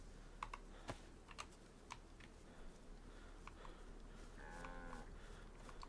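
A cow lows in the survival video game DayZ, a faint drawn-out moo near the end, preceded by scattered soft clicks and taps over a quiet hum.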